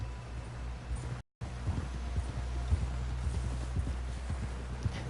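A horse's hooves clip-clop at a steady, rhythmic pace over a low droning background in Red Dead Redemption 2, broken by a brief gap of silence near the start.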